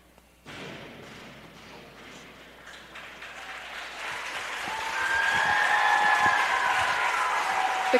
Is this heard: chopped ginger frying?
no